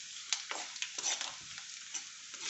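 Garlic frying in a pan until brown: a steady, bright hiss of hot oil broken by several quick scraping stirs, close up and without any talking.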